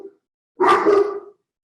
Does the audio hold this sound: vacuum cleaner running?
no